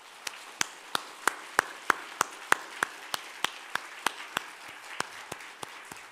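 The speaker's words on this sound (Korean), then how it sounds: "함께 영광의 박수를 올려드리겠습니다." Applause from a church congregation during a Sunday service, heard as a sparse, steady run of distinct single claps, roughly three per second, fairly faint and even over a soft room background.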